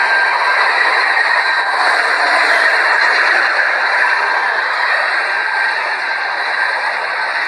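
A train, likely the Shatabdi express, rushes past on the adjacent track, a loud, continuous close-up roar of wheels and rolling carriages with no break.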